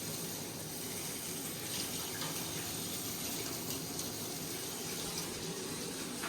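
Water runs steadily from a shower or tap while a husky puppy is bathed, a close, continuous hiss and splash with no pauses.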